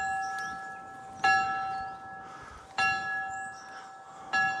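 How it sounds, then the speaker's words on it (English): Church bells ring at St Mary the Virgin in Worplesdon, three separate clear strikes about one and a half seconds apart, each leaving a long bright hum that decays slowly against quiet outdoor background. "Obviously the church bells."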